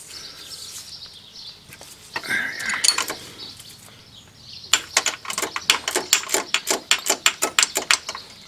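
Ratchet working a 10mm bolt on a Ford Focus belt tensioner, quiet scattered clicks, then a rapid run of sharp, close ratcheting clicks in the second half with no talk.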